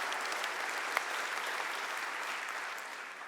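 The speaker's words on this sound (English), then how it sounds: "Let's give them a big round of applause." An audience at a food-future panel talk breaks into steady, continuous applause that fills the whole stretch and fades slightly at the end, with no speech over it.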